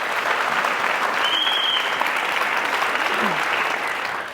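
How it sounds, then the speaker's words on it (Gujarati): A television studio audience breaks into sustained applause for Bhatt saheb, broad even clapping that holds steady throughout and eases off slightly at the end. "મને લાગે છે ભટ્ટ સાહેબ માટે જરૂર ઓડિયન્સે તાળી વગાડવી જોઈએ"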